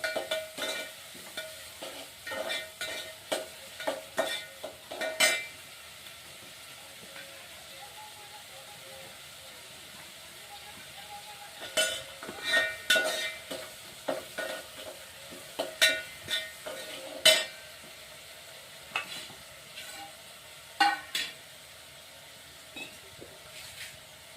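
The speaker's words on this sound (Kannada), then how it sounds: "ಎಣ್ಣೆಗ ಚೆಂದಾಗಿ ಫ್ರೈ ಮಾಡ್ಕೊತೀನಿ ರೀ ಉಳ್ಳಾಗಡ್ಡಿ ಟಮಾಟಿಗೆ" Onion and tomato fry in oil in a village kitchen, giving a faint background sizzle broken by irregular bursts of stirring and scraping against the pan that come and go.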